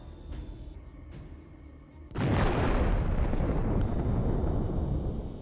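A drone strike detonates against a Russian military system, a sudden loud explosion that bursts in after two seconds of quieter ambient noise and holds as a dense, roaring rumble until the end, with no talk.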